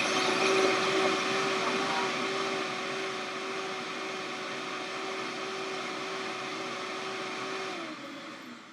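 An electric frother whirs through a reishi tonic, whipping it into foam with a close, steady motor whine and a constant pitched hum for about eight seconds, then winds down and dips at the end.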